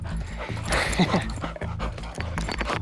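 A customs detector dog pants rapidly and rhythmically at close range, quick breathy huffs running steadily throughout, partly under someone speaking and loud music.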